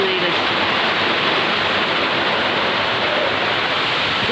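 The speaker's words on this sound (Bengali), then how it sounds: "দেখুন কত জোরে বৃষ্টি হচ্ছে, ঝড় ডুবিয়ে পুরো বৃষ্টি পড়ছে" Heavy rain pours down in a constant, loud, dense hiss that stays even and unbroken throughout.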